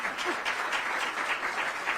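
A short burst of audience applause at a news conference on magnet schools, dense and steady clapping at moderate loudness throughout the two seconds.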